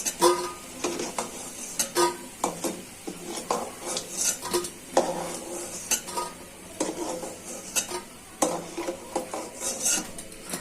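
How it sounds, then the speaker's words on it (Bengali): Fried spinach and red lentil fritters are lifted out of a pan, with repeated metal utensil scrapes and clinks against cookware over a soft oil sizzle, close and fairly quiet, with no speech. "বড়াটা এখন ভাজা হয়ে গেছে, উঠিয়ে নিচ্ছি"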